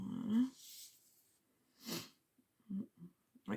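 A woman with a cold sniffs a few times, short breathy snorts through the nose spaced apart in a quiet room, with soft handling noise between.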